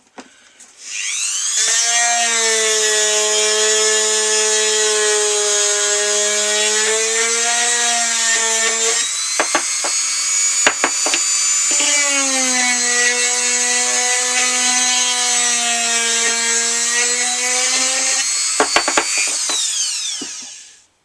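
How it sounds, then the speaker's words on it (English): A power screwdriver drives a screw into an ear piece being attached to a Boba Fett helmet. The close, steady whining motor runs in two long bursts of roughly eight seconds each, with the pitch shifting slightly as the screw seats. "make sure that when you put the screw in, the head is fully countersunk inside the piece"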